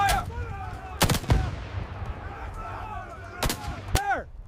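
Battlefield gunfire at Normandy in 1944, with several sharp, loud broadband shots in irregular bursts over constant rumbling combat noise, and faint shouting voices in the background.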